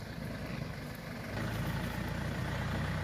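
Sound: farm tractor engine

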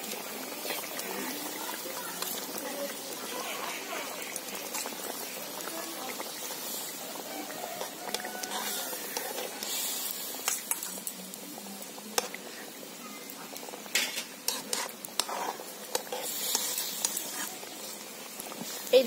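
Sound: mustard paste added to hilsa fish curry in pan

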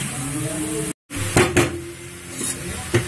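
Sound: mixing jaggery and grated coconut in a pan

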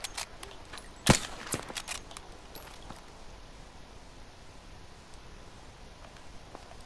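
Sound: gunfire from video game Battlefield V

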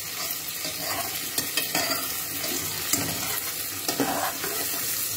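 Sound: onions frying in butter on full flame

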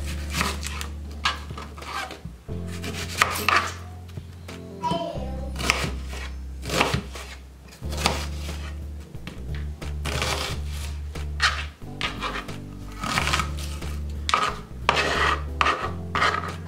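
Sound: slicing a whole onion

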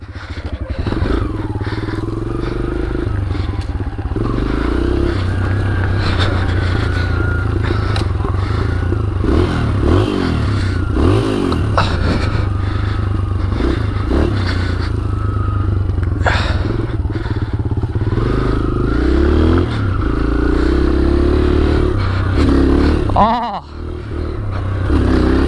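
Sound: motorcycle doing wheelies to blow out snow

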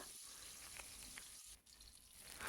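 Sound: frying rohu fish head and tail

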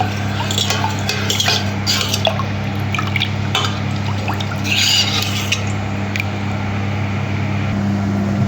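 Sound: stirring nannari sarbath in a glass

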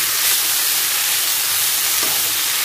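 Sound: marinated chicken with lime leaves roasting in a pan

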